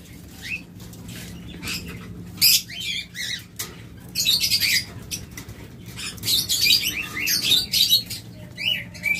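Opaline pet birds kept for sale chirp and squawk in quick, overlapping bursts over a low hum of background noise, with wings fluttering now and then.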